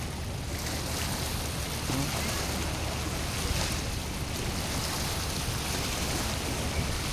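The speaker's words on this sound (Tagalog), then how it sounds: "Medyo malakas ang alon." Strong sea waves seen from a small boat at sunset, a dense continuous wash of surf and rushing water with wind noise, steady and fairly loud throughout.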